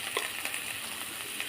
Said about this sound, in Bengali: এবার কড়াইতে কিছুটা তেল দিয়ে মাছটা দিয়ে দিয়েছি।